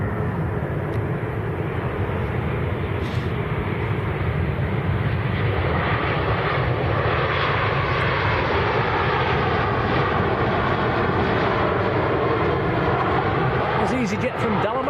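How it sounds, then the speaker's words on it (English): An EasyJet airliner arriving from Dalaman at Manchester Airport gives a continuous, loud engine roar that holds steady and slowly shifts in pitch throughout, with no pause or fade. "That was EasyJet from Dalaman."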